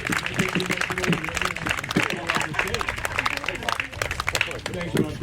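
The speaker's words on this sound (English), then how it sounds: "let's give him a big clap" A crowd at an outdoor Memorial Day service claps steadily throughout, with a busy, close patter of hands mixed with voices and crowd chatter.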